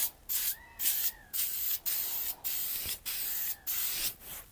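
Aerosol spray paint can laying a coat on car racing stripes, with six or seven hissing bursts of about half a second each, separated by short pauses and close by.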